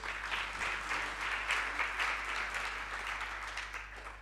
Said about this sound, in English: if you can give a round of applause